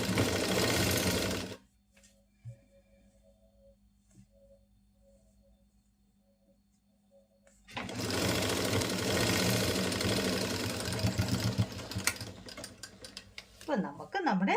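An electric sewing machine stitches the back piece of a pleated three-piece nighty, its loud rapid whirring running in two bursts separated by a long quiet pause with faint handling noises.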